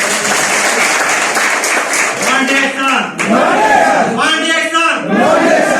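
Loud applause from a large audience at a DXN business gathering, dense continuous clapping with some cheering and voices mixed in, sustained throughout.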